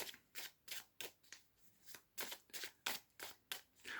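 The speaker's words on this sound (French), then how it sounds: "Et donc je tirais quand même quelques cartes" Oracle cards shuffled by hand, a quiet, regular series of about a dozen soft riffling swishes in a steady rhythm, close and alone.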